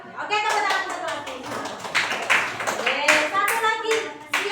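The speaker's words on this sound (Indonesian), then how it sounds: "Oke, tepuk tangan satu lagi." Schoolchildren in a classroom clap their hands in quick bursts, close and lively, while children's and adult voices talk over the clapping.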